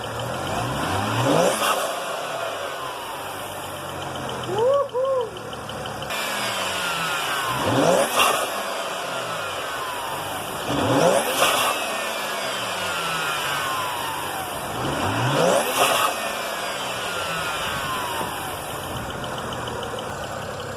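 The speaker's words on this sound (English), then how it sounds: "Let's see if more flow means louder blow valve sound." A BMW N54 engine fitted with a blow-off valve revs four times in steady succession. Each climbing rev ends in a whooshing release, loud and close, with a lower idle between bursts and no talking.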